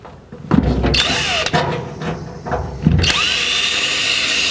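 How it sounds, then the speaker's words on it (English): A power drill bores a hole through the firewall of a 1949 Chevrolet for a throttle cable, with short loud whirring bursts that start and stop, separated by clunks and handling noise. "And we'll drill our hole."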